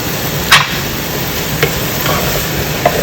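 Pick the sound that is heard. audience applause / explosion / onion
onion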